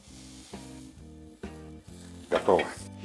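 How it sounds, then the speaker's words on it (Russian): Chicken breast, cooked sous vide, sears in a hot pan with a steady close sizzle and crackle, over a faint repeating background tone. "Задача не в том, чтобы дожарить курицу, да, а в том, чтобы просто придать ей цвет и немножко больше аромата."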